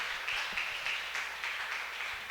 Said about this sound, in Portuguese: Aplaude a Ele.